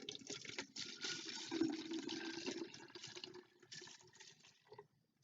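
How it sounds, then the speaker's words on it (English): Vinegar poured into a bucket to fill it halfway: a steady, close splashing and gurgling stream lasting several seconds, tapering off near the end, with no voices. "I'm going to fill it up about halfway with vinegar"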